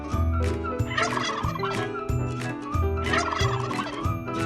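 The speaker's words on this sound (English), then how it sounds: "Turkey." A farm turkey gobbles in repeated rapid bursts, loud and close, over a steady rhythmic musical backing.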